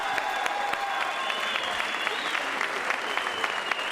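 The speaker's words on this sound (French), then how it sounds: "Et on peut applaudir Terry Ron, s'il vous plaît." A crowd at a savate boxing event applauds a fighter after the verdict, sustained clapping over a steady, tonal arena background.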